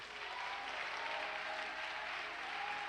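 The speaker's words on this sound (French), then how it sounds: "Si tu es dans la joie, acclame Jésus-Christ" A church congregation at a worship service applauds in steady, sustained clapping. The dense, even roar of many hands carries on for the whole stretch with no pause.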